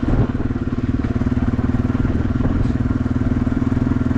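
Yamaha TW200 motorcycle being ridden, its single-cylinder engine chugging steadily and loudly up close with a continuous rhythmic pulse and some wind rumble.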